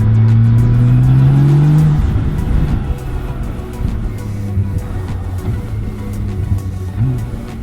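A BMW K1600B motorcycle engine pulls hard in third gear, a loud rising drone climbing steadily for two seconds, then easing into a steady cruising hum with wind rush, close and continuous.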